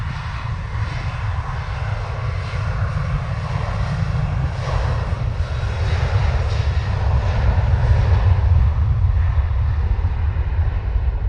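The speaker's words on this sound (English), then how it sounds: "And there goes your Ryanair 737-800." A Ryanair Boeing 737-800 airliner departing Bristol Airport gives a loud, steady jet engine roar with deep rumble, building slightly and holding throughout, with no talk over it.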